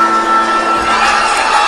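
Loud, continuous crowd roar of cheering and whoops filling an arena after Yuna Kim's figure skating free skate at the 2008 Cup of China, steady and dense throughout with no distinct claps standing out.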